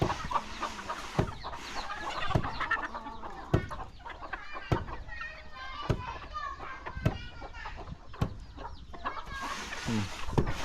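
Chickens cluck and squawk in short bursts around a rural village yard, with children's voices and nearby talking mixed in throughout.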